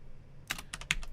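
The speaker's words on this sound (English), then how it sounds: "I'm going to press enter, and I'm going to type elif" Several quick keystrokes clatter on a computer keyboard, a short close burst of crisp clicks.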